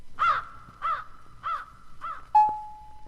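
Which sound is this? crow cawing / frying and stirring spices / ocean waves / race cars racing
crow cawing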